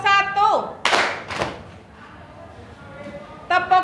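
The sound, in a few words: class clapping pattern, clap number 1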